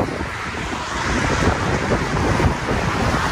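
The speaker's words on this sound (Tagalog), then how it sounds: "malakas man yung hangin" Strong, cold wind on an overpass buffets the microphone in a continuous, loud rumbling roar.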